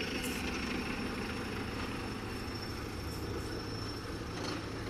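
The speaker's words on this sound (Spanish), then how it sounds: "Acá tenemos al tractor haciendo limpieza y canaleta." A tractor cleaning a storm-drainage channel in Talara runs with a steady, low engine drone that holds even and unbroken throughout, with no talk.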